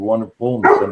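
Dogs barking indoors in a house, several loud harmonic barks in quick succession close to the microphone, overlapping with a person speaking.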